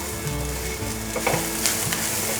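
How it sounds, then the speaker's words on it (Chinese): Carrot, celery and shiitake mushrooms stir-frying in a wok for a vegan dumpling filling, a steady close sizzle broken by quick scraping tosses of the spatula, with a faint tonal hum underneath. "现在放入红萝卜，还有芹菜，还有香菇。 快速的翻炒，"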